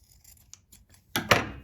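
Scissors snip through flannel fabric seam allowances on a cloth diaper insert, with faint soft rubbing, then two louder close crunching cuts near the end.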